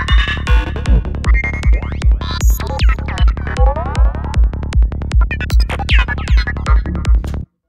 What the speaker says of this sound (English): Crazy psychedelic sounds.